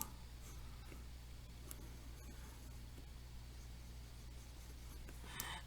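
Pen strokes from sketching a tree diagram for a right-triangle height problem, soft continuous scratching with faint ticks, close and quiet over steady low background hum, no talking.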